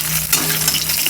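Fish fried with ginger, garlic, lemon juice, salt, turmeric and cornflour or rice flour coating sizzles steadily in a pan, a dense continuous crackle with a constant low hum beneath it, close and fairly loud throughout.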